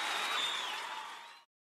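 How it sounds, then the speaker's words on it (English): Audience applause and cheering from a crowd fills the air in a broad, steady wash, fading out before a brief silence near the end. "Nice cheering!"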